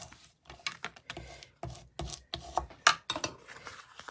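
Packing tape is rubbed down firmly by hand, a close series of short, dry scuffing strokes in an uneven rhythm with brief pauses between passes, fairly quiet and heard alone.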